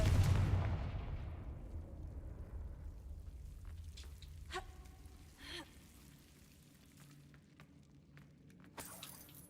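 A Confringo spell explosion in Hogwarts Legacy erupts as a loud, broad boom at the start and fades into a long rumbling decay, followed by a few faint scattered crackles and a brief burst near the end.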